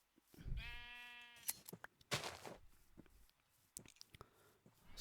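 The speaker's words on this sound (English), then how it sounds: "I'm just gonna get one more sheep." A sheep bleats once in the Minecraft video game, a clear, wavering digital baa, followed by scattered clicks, chewing-like crunches and footstep sounds from the game.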